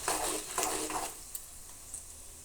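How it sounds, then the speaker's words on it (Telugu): Tempering spices for a curry leaf rice sizzle in hot oil in a pan while a utensil stirs them with a few scraping strokes, the frying hiss close and fading toward a quieter simmer. "ఇప్పుడు ఈ పోపు దినుసులన్నీ వేసేసుకోవాలి. అవి బాగా వేగాలన్నమాట."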